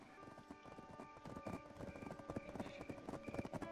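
Hooves of a horse mount clip-clop in Black Desert, starting faint and growing into a quick, steady trot, heard close over a soft sustained game music background.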